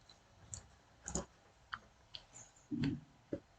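Several sharp, quiet computer mouse clicks sound at irregular intervals while signing up for a Microsoft 365 developer account on a Windows PC, close and isolated with no talking.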